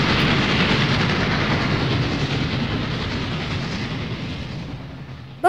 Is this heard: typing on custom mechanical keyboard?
no